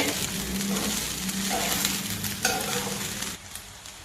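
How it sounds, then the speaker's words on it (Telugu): Egg fried rice is stirred and fried in a pan, with a steady close sizzle under repeated scraping strokes of a spatula that ease off near the end. "చిన్నగా తిప్పేసుకుంటూ ఉంటే ఈ విధంగా అన్నం అంతా మొత్తం ఫ్రై అయిపోతుంది"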